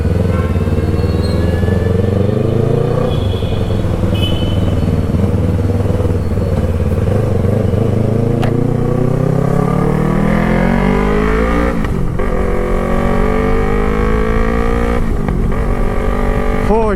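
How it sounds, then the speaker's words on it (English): A first-generation Yamaha R3 motorcycle accelerates hard and loud, its engine note climbing steadily through the gears with brief dips at shifts, heard close up throughout with no talking. "Oh, it feels good to pull the bike a little bit."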